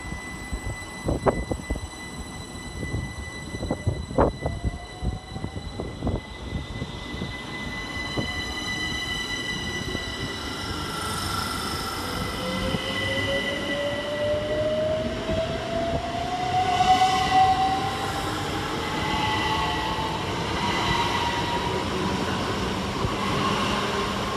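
Great Western Railway Class 387 electric trains run through Twyford station, with heavy wheel clatter and thumps at first, then a long rising whine and squeal as the train passes close by.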